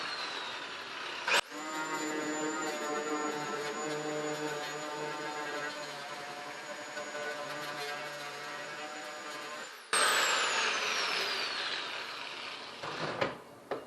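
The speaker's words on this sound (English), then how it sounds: "the grinder's a whole lot faster than the drill" An angle grinder whines steadily at high pitch for several seconds, then cuts off and restarts with a harsher, louder grinding burst near the end.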